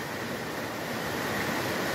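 A river beside a waterfall gives a steady, dense rush of flowing water that holds at an even level throughout with no voices.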